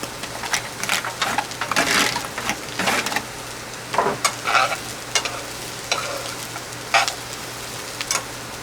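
Chopped onion fries in a pan over a camp stove at a sandy-beach campsite on Michigan's Saginaw Bay, a soft background sizzle broken by repeated scraping stirs, close and moderately loud.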